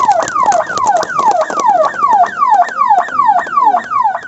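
An ambulance siren wails in a fast, regular rising-and-falling cycle, loud and close, with a repeating sweep about every half second and faint background noise.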